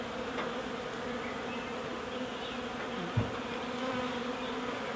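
A honeybee swarm busy at a hive entrance after collection from a willow tree makes a dense, continuous buzzing drone, close and steady, with one brief knock partway through and no speech.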